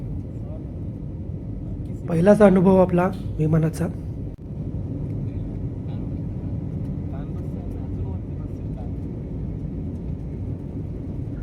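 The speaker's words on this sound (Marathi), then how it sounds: "बघू शकता आपलं विमान आकाशामध्ये जात आहे" Steady cabin drone of an airliner climbing after takeoff on a Bhubaneswar to Hyderabad flight runs throughout, with someone talking over it briefly near the start.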